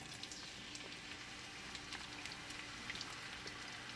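Chopped red onions sauté in a pan, a faint, steady sizzle with scattered soft pops and crackles, quiet and continuous with no talking.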